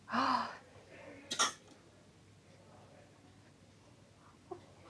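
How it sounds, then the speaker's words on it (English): A young boy at a GP appointment gives a short cough near the start and another brief cough a second later, then quiet room noise with soft sounds and a faint adult voice. "So this is just to help with the cough whilst he's coughing so much."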